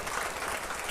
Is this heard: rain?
no